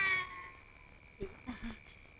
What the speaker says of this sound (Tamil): இது பூனை, இது கூட பரவாயில்ல.